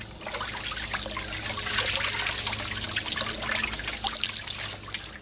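An animal hide is sloshed and worked around in a clean water bath, making continuous close splashing and trickling with no talk.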